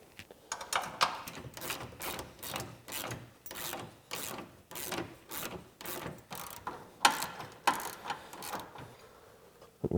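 A ratchet wrench loosens bolts on a Can-Am Defender lower A-arm, making close, rhythmic bursts of rapid metallic clicking with short pauses between strokes.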